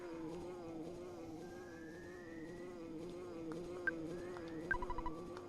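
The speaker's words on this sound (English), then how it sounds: "bee flying over me" Cartoonish insect drone of a bee from the video game Earthbound, a steady wavering buzz running continuously under game music and chimes, moderately loud.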